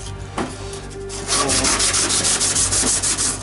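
Sanding paint down on a UAZ vehicle body, starting with light scuffing strokes and then turning to loud, steady, rhythmic back-and-forth rubbing close by, with no talk.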